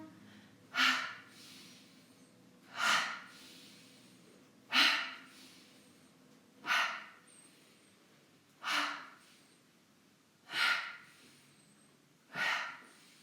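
Slow, deliberate breaths during a gentle tension-release exercise, seven evenly spaced airy exhalations about two seconds apart, close and soft, with quiet inhales between and no talking.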